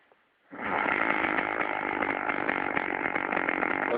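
A man snores comically in one loud, rasping, engine-like drone that starts abruptly after a brief quiet moment and holds steady and close for several seconds.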